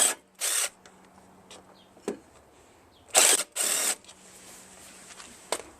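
Short bursts from a power tool, likely a drill, loosen the intake manifold bolts on a Tecumseh 5.5 HP engine from a Craftsman lawn mower: four brief, close whirs with quiet clicks between them.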